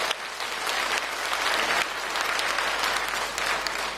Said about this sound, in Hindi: आप सबकी ओर से मैं एक बार फिर माननीय मुख्यमंत्री जी का बहुत बहुत स्वागत करता हूं जोरदार तालियों के साथ।